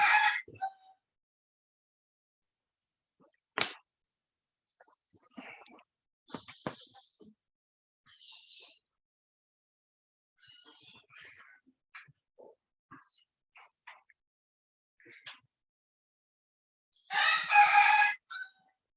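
A rooster crows in bursts near the start and again toward the end, with scattered faint clucks and small sounds between, heard nearby in a quiet room during a lesson.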